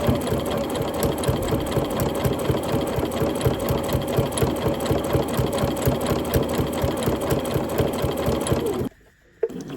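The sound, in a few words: sewing machine stitching fabric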